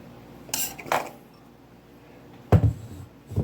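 A knife clinks and scrapes against a bowl or pan while stirring a crumb mixture, a few sharp separate taps spaced apart over a quiet background.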